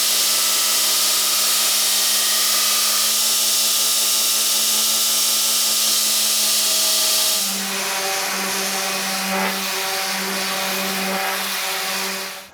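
A power tool shaping a wooden poplar katana scabbard, a loud continuous whining drone that shifts to a lower, rougher tone partway through as it bites into the wood, then stops abruptly.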